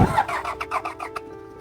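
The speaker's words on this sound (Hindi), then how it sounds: "वाह कितनी स्मूथ स्टार्टिंग थी इसकी यार, कितनी स्मूथ स्टार्टिंग" A diesel Toyota Land Cruiser or Ford Bronco off-road SUV starts up with a short burst of cranking, then catches and settles into a smooth, steady idle that hums on quietly, loud and close with no talk.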